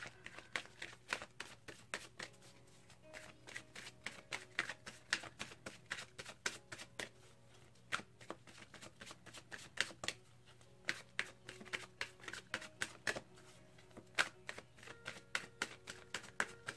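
A deck of Gateway Oracle Cards by Denise Lynn is shuffled by hand, producing rapid, close, crisp riffling flutters in repeated bursts with brief pauses between them.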